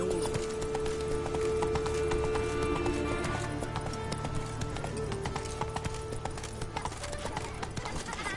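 Roach, Geralt's horse in The Witcher 3: Wild Hunt, gallops with a steady, rapid clip-clop of hooves, and a brief whinny comes near the start over a continuous game soundscape.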